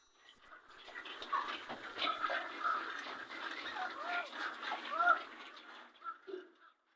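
Poultry birds kept at a family home in Nigeria call and cluck in a busy, overlapping chorus that runs steadily through the whole stretch, fairly close and moderately loud, with no speech.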